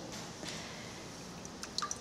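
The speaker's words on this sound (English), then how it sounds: "we'll rinse it in water just to get that mud off" Mud-covered paper leaflet rinsed in water during document salvage, giving faint, quiet dripping and soft squishy liquid sounds over a low steady wash, with a few small drips near the end.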